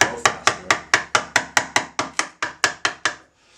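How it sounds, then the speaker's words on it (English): A steel chisel struck repeatedly with a mallet while cutting out wood for an ergonomic form: about fourteen sharp, close knocks in a steady, quick rhythm, loud and alone, then stopping. "So I'm going to do it with the chisel."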